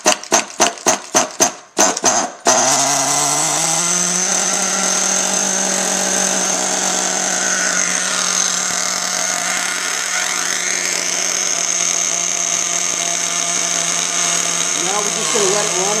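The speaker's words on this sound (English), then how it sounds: "fill it up with gas and give it its first start" A gas-powered Losi 810 RC car engine is primed and started for its first break-in run, a few quick sputtering pulls catching and then settling into a loud, steady high-pitched buzzing idle that wavers slightly near the end.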